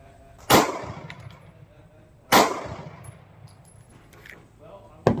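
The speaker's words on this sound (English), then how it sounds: "Those are probably the best 2 shots" Two loud, sharp gunshots from a Sig Sauer P365 pistol at a range, about two seconds apart, each with a brief ringing tail, followed by faint clinks.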